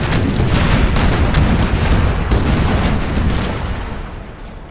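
Ship cannons fire chain shot in a naval battle in Empire: Total War, a dense rolling volley of booming blasts that fades out toward the end.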